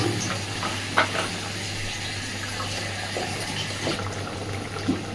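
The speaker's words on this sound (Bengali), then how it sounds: "মাছটা দেওয়ার পরে মোটামুটি মিনিট 5 খুব ভালোভাবে আগে এটাকে ফুটিয়ে নেব" Koi fish simmers in oil for a Bengali tel jhal curry, a steady soft bubbling sizzle with occasional louder pops and stirring clinks, fairly quiet and without talk.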